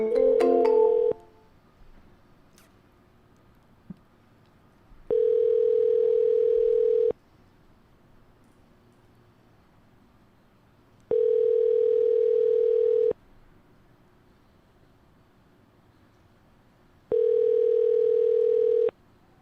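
An outgoing phone call's ringback tone sounds in three evenly spaced two-second bursts with silent gaps between, after a short burst of other tones at the start.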